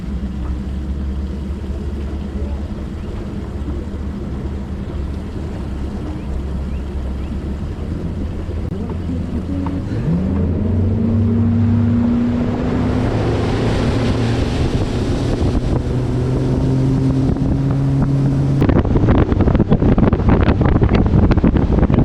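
A bass fishing boat at a state tournament start motors away, a low steady engine drone rising in pitch as it throttles up, with heavy wind buffeting the microphone and rushing water growing louder toward the end.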